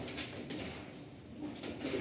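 Pigeons in a Madrasi pigeon loft coo softly, a faint low murmur of birds held steady under a quiet background.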